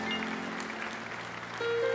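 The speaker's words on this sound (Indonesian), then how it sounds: "Kasih tepuk tangan buat Tuhan Yesus." A church congregation claps together in a steady burst of applause during a worship service, dense and even throughout, with a sustained keyboard note entering near the end.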